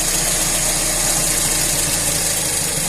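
A Tavria 1.1 engine idles with a freshly repaired 21081 carburetor, its mixture leaned out until it starts to shake. A steady, close, continuous engine drone with low rhythmic pulsing runs throughout, with no talk.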